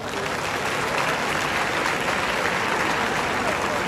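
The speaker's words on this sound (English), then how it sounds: "I think she deserves a round of applause" Audience members at a university convocation ceremony applaud an honored law graduate. The clapping forms a dense, even wash of sound that holds steady for about four seconds without any voices.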